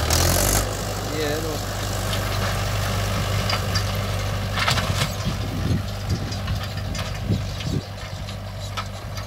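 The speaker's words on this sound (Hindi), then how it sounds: "महिंद्रा का 575 DI 47 HP में आता है ये।" A Mahindra 575 DI 47 HP tractor idles on a farm field before mustard sowing, giving a steady, low, continuous engine rumble with a few light knocks and background sounds on top.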